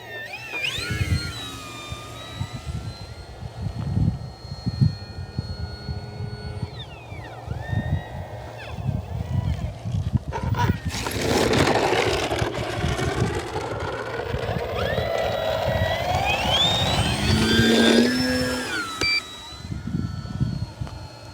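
Arrows Bigfoot 1.3 m RC model plane flying at full throttle, an electric motor whine rising and falling in pitch as it passes, with gusting wind noise buffeting the microphone.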